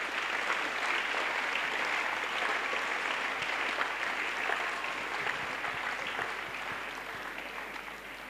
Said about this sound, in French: Acclamez Jésus-Christ. Clap for Jesus.